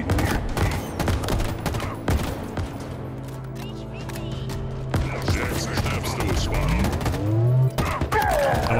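Gunfire in Halo Infinite: dense rapid bursts of shots pile up at the start, ease off into a quieter hum, then return with more shots and mechanical game effects, while a voice speaks faintly underneath.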